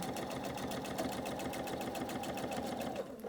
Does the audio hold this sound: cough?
no